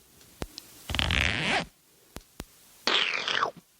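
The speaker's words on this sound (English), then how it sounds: "I'm going to pull down my zipper." A zipper is pulled twice in quick rasping strokes, close and loud, with a few small clicks between the pulls.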